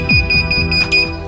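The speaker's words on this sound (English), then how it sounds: "here we got this loud, insane beeping." A 3D printer emits a loud, piercing electronic beep that repeats rapidly and steadily alongside its mechanical clatter and hum.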